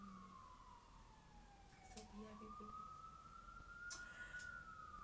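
An emergency vehicle siren wails on a New York City street, its pitch sweeping slowly down and then rising again, heard at a distance, faint under the ambient city hum with a few clicks.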